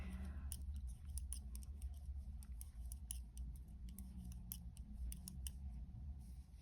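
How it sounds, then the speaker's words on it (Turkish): Scissors snip repeatedly through yarn stitches while crocheting an openwork summer blouse, giving a quick run of crisp, close cuts over a low background rumble. "2 ilmeğimi kestim."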